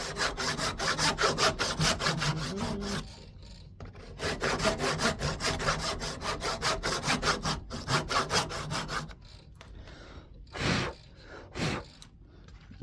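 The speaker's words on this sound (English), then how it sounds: "Just keep sawing away" Hand saw cutting through wood for a double barley twist candlestick holder, rhythmic close strokes in steady bursts, a brief pause near three seconds, then sawing resumes before trailing off into a few isolated scrapes.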